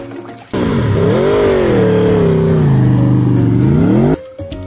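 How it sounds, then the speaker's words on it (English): A motorbike engine revs hard and continuously, its pitch rising, dipping and climbing again for about four seconds, loud and close, then cuts off abruptly. "Motorbike."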